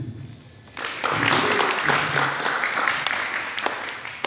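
Audience applause at an Ansor gathering, a burst of many hands clapping that starts abruptly and holds steady, fairly loud and close, with a voice heard beneath it.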